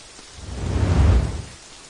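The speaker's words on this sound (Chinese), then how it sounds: "下雨了" Rain falls in a steady hiss that swells to a louder, heavier rush midway and then eases off again. There are no voices.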